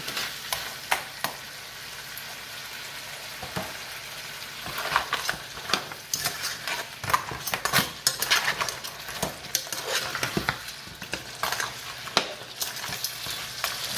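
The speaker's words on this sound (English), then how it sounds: "we're gonna go ahead and add the crab" Crab being added to a pot of Haitian vegetable stew and stirred, with scraping clatter of a utensil against the pot over a steady bubbling sizzle, moderately close and without talk.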